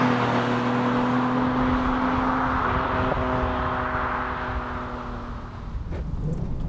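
A Toyota Celica Supra climbs a hill at full throttle, its engine holding a loud, steady drone with a rising tonal hum. The note dips slightly near the end as a brief clunk comes through from inside the cabin.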